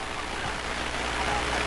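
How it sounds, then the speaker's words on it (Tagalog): Steady rain pours during a nighttime storm in Bantay, Ilocos Sur, a dense continuous hiss without breaks, with runoff water likely mixed into the wash. "Vicky, sa mga oras na ito ay bahagya ng humina ang pagulan kumpara kanina."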